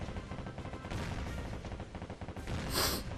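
Warship guns fire in a continuous, rapid rattle of shots in the naval combat game Warship Gunner 2, with a louder burst of blasts near the end and no voices.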